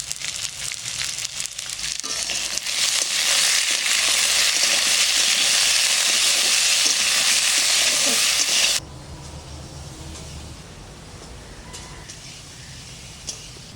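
Red amaranth leaves fry in oil with salt in a home kitchen, a loud dense sizzle that swells and holds for several seconds, then drops abruptly to a much quieter simmering hiss.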